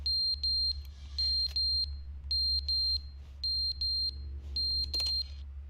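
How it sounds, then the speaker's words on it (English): Repeated electronic alarm beeping from a video game, bursts of high steady tones in a regular on-off rhythm over a low constant hum, with a brief sharper clatter near the end. "This is beeping."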